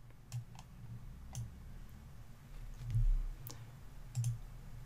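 Computer mouse clicks selecting spreadsheet cells in Excel, a few sparse, soft clicks spaced out over a steady background hum, with no speech.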